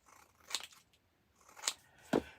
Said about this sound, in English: I'll grab my scissors and I'm just going to cut